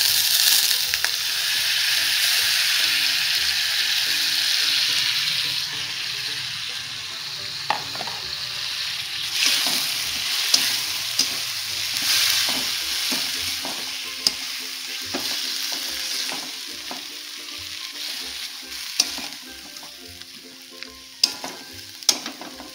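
Tomato puree sizzles and fries in a hot pan, a steady bright hiss with scattered stirring scrapes and clicks, close and continuous throughout.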